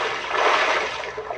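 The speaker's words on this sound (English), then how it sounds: "I'll just heave it out into the water." A tiara hurled into water gives a short, loud rush of splashing water that stays steady for about a second and a half, with no one talking.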